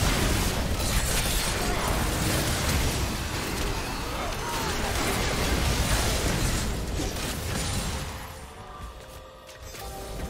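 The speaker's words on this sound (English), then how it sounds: "Blue team's turret has been destroyed." A turret is destroyed in the League of Legends video game: a loud, sustained crumbling explosion with crashing debris that rumbles for several seconds before tapering off, an announcer voice speaking over it.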